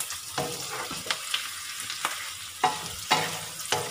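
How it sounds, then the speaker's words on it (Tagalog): Fried pork stirred with spices in a pan for Filipino humba, a close sizzle punctuated by regular scraping and clacking strokes of a spatula, with no talking. "Ibabalik na natin ngayon ang ating pritong karne. So, halo-haloin lang muna natin siya."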